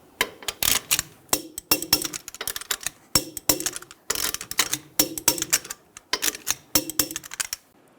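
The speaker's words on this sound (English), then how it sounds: "Torque the lug nuts to 94 foot-pounds in a cross pattern." A torque wrench tightens the front-wheel lug nuts on a 2000-2007 Ford Focus, producing a quick series of sharp, close metallic clicks and clinks in an irregular rhythm with no talk.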